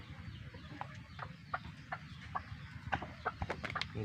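A backyard flock of chickens clucks in short, scattered calls, quiet and fairly close, with a steady low background hum underneath.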